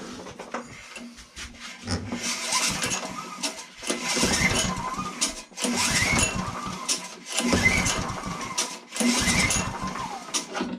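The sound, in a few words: pull-starting a trash-picked lawn mower engine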